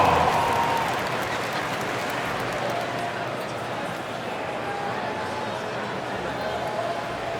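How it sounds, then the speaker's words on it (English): Crowd applause rolls through an NBA 2K25 basketball game between the Kings and Warriors, a steady dense clatter of clapping and arena murmur at moderate loudness, with faint court sounds and voices underneath. "A round of applause."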